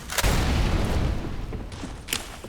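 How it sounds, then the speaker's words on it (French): A flashbang grenade going off in a tactical shooter game, a sudden deep boom followed by a sustained low rumble and ringing that fades over a couple of seconds. "Flashbang."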